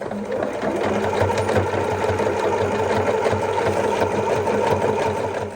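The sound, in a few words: sewing machine doing a zigzag stitch on an apron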